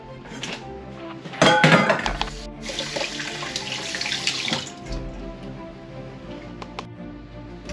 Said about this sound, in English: Let me clean up my hands